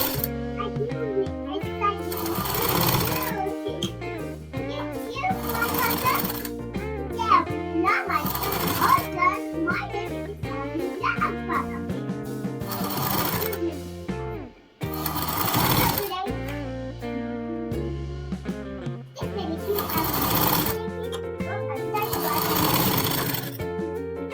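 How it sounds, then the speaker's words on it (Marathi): Sewing machine stitching a blouse in loud close rapid bursts of needle chatter that start and stop repeatedly, with a rhythmic mechanical hum between runs. "दोन नंबरची बारीक शिलाई ठेवते टीप मारून घेते आणि याला मी डबल टीप मारत असते"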